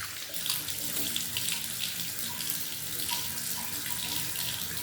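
Tap water running steadily into a sink for washing the face, a continuous bright hiss and splash close by with no talking.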